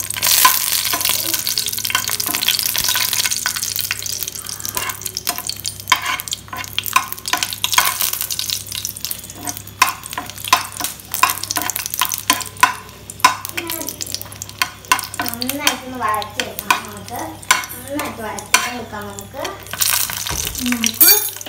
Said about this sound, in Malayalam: വറ്റൽ മുളകിന് ഇതൊന്ന് വാട്ടിയെടുക്കണം.